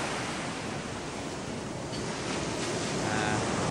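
Ocean surf rolls in steadily at Kuta Beach in Bali, a dense, continuous wash of breaking waves with some wind rumble, loud and close throughout.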